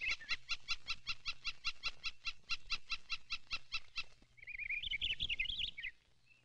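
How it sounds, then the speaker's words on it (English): Ruffed grouse in quiet woods, a rapid series of about twenty evenly spaced sharp calls followed by a brief warbling burst, clear and fairly close against a still background. "like a rough grouse"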